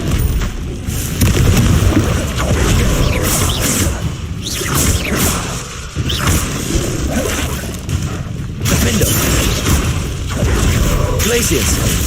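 Repeated booming spell blasts and whooshes from Confringo casts in the video game Hogwarts Legacy, loud explosive hits recurring every few seconds amid constant combat noise, with a voice talking over them.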